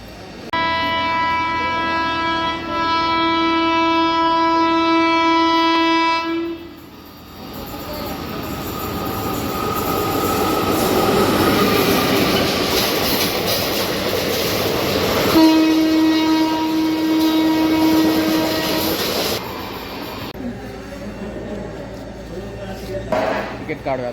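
A train pulls into Partur railway station, sounding two long, loud horn blasts close by with rumbling wheels and rattling cars between them.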